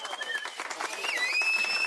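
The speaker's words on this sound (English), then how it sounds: "Give yourself a round of applause." A small crowd applauds, a dense, faint patter of clapping that carries on steadily throughout, with a high whistle-like tone over it.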